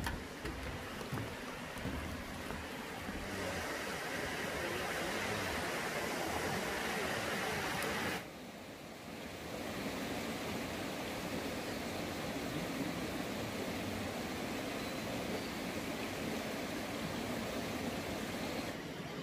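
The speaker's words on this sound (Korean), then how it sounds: "이쪽이 폭포야?" Loud, steady roar of falling water at the Biryong Falls trail on Seoraksan, a broadband rush that dips briefly partway through before resuming at full strength.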